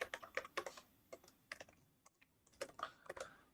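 Close, moderately quiet typing on an unfamiliar computer keyboard, irregular clusters of key clicks with a brief pause midway and no voices.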